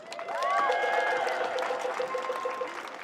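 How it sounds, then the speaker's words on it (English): Crowd at an outdoor climate strike rally in Toronto applauds and cheers, a sustained wash of clapping over background noise with some voices and whistles lasting throughout. "And give yourself a round of applause for that."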